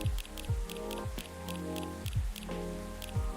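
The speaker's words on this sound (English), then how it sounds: "I just hear the rain." Rain in the video game Coffee Talk 2: a steady patter of drops with soft rhythmic thuds and faint game tones underneath, and no music or voices.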